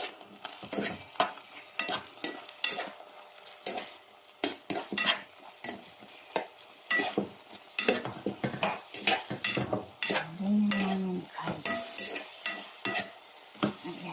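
Hotdog omelette of egg frying in a pan, with a steady sizzle broken by frequent sharp scrapes and taps of a utensil against the pan in an uneven rhythm, close and fairly loud, with no talking.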